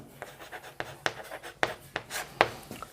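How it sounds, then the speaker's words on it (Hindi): Handwriting during a class 10 height-and-distance maths lesson: close, scratchy strokes come in quick irregular bursts, a dozen or so short marks over a few seconds, with no talking. "अब हम यहाँ पर लिखेंगे"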